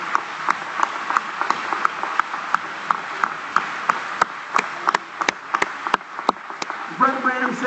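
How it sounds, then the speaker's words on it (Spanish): A Spanish-speaking church congregation at a year-end service claps in applause, scattered sharp claps over a steady room murmur, with voices and a brief burst of other sound near the end. "Dese usted mismo un aplauso."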